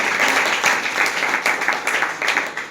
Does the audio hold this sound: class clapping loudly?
yes